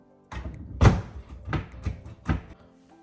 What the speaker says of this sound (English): let's try to close the door.